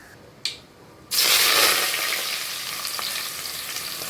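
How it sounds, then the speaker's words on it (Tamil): Chopped onions hit hot oil with popped mustard seeds for a fish curry, and a sudden loud sizzle follows. It keeps frying steadily after a single sharp pop, with no voices. "நல்லா பொரிஞ்ச பிறகு நம்ம கட் வச் கட் பண்ணி வச்சுருந்த வெங்காயத்தை போட்டு நல்லா வதக்கலாம்"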